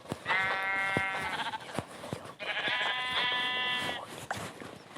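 Sheep bleat in Minecraft in two long, wavering calls, each about a second and a half, with faint clicks and game noise between them and no talk.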